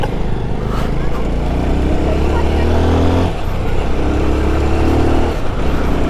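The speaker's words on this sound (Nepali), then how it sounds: "यो बाइक कहिले यस्तो मिठो कुद्छ" A modified Bajaj Pulsar 200 motorcycle rides along with its engine droning loudly and pitch rising and falling through gear changes, while a voice talks over it.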